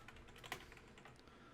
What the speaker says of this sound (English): if I type in seasoned mozzarella